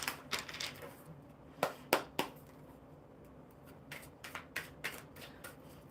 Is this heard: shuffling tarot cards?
yes